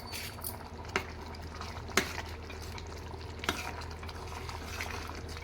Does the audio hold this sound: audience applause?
no